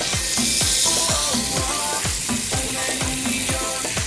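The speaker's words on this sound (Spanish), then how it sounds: "primero vamos a saltear un ratito mi cebolla blanca" White onion and garlic sautéing in a pan for a corn dish, a loud steady sizzle and crackle close up, with regular scraping stirs sweeping through it.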